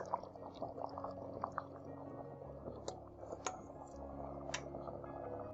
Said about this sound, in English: Now we are going to add our peanut.